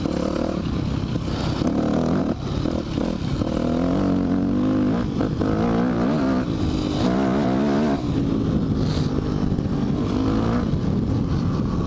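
A motocross motorcycle engine runs through varying revs, climbing and dropping in pitch with repeated throttle changes, loud and close throughout with a rough, buzzing tone.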